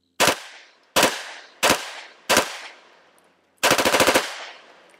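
A machine gun fires four loud, separate single shots about two-thirds of a second apart, then a short rapid burst, each blast fading into a brief decay, with no voices.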